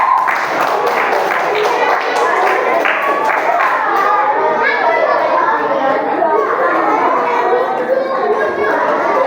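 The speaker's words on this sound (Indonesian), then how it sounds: "Oke, tepuk tangan." Children in a church catechesis class clap their hands together, a burst of scattered claps strongest in the first few seconds, then lively young voices and chatter carry on close by.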